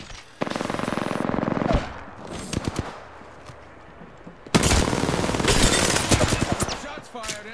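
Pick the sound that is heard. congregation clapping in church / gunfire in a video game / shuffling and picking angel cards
gunfire in a video game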